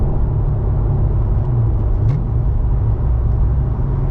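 A C6 Corvette Z06 runs with its exhaust valves open through a downshift, a loud continuous low engine rumble mixed with road noise and a brief rising blip near the middle.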